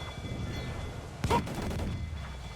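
A single ship's cannon booms once at mid-distance during a naval battle in Assassin's Creed 4: Freedom Cry, rising briefly above a low background of sea and crew noise.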